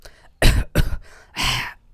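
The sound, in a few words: throat clearing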